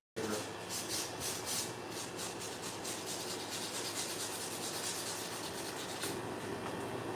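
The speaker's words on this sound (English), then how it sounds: "Using some 320 grit sandpaper." Rust rubbed by hand with 320 grit sandpaper makes a continuous close rasping scrub in rhythmic strokes, with a faint low hum beneath.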